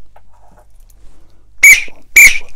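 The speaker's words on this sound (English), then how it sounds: "he heard an engine whistling" Two short, loud steam engine whistle blasts sound close by, separated by a brief pause, over near silence.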